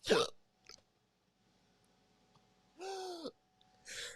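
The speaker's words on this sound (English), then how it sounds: "I'm real big on like hiccups." Three hiccups, each a short sharp catch of breath with a voiced squeak, spaced apart with quiet between them.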